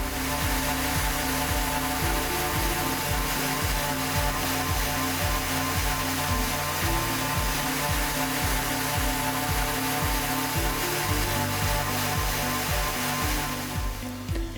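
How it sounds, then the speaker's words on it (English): A power sander runs steadily and loudly along a worktop joint, sanding off excess adhesive, its motor droning with a slightly fluctuating pitch and grinding rasp throughout. "the sander is run up and down the joint to sand off the excess adhesive."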